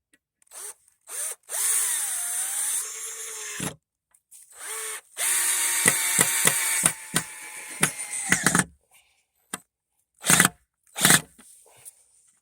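A Black & Decker 20 volt battery drill drives a long screw into a hard, dry wooden beam without pre-drilling, in several close, loud bursts of whirring motor with sharp clicks and short stops between them.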